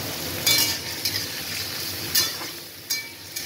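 Pumpkin shoots sauté with cumin powder and ginger paste, a soft steady sizzle broken by a few sharp scrapes of a spatula against the pan, close up with no voices.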